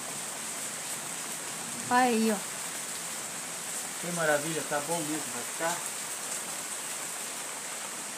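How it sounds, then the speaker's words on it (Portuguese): Heavy rain pours down steadily in a downpour, a constant close hiss that runs the whole time while someone talks over it in short bursts. "Olha a chuva aí, ó."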